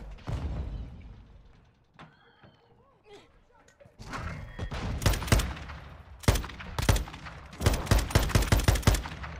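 Sakin MG38 machine gun in Call of Duty Modern Warfare, opening with a short burst, then mechanical clicks and clanks, followed by repeated loud rapid bursts of automatic fire, with someone talking early on.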